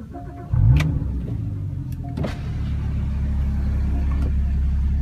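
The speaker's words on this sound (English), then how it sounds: "start it up and see how it sounds" A 2016 Porsche Boxster Spyder engine cranks and catches, then settles into a low, steady rumbling idle close by, with a few clicks early on.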